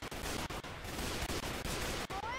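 Steady, loud gunfire in a Left 4 Dead Mario mod, a rapid continuous stream of shots with brief gaps, and a rising whistle near the end.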